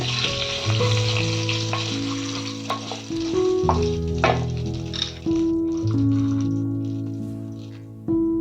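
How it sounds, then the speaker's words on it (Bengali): Bay leaves, cardamom, cinnamon and cumin sizzling in hot oil for a tempering, a steady loud crackling fry close by, with the spices stirred now and then. "দুটো তেজপাতা, এলাচ, দারচিনি আর জিরে, এটা ফোড়নে দিয়ে"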